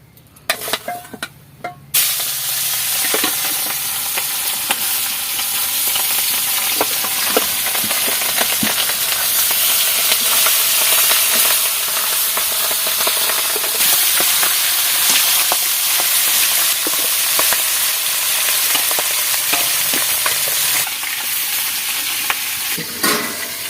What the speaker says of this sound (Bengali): তেল গরম হয়ে গেছে, এবার আমি মাছ দেব, মাছ ভেজে নেব